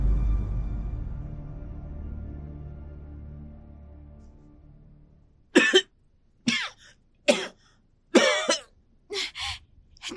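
Coughing from a man reviving after CPR: after a low-rumbling, fading stretch, about five or six sharp, separate coughs come close and loud in irregular bursts.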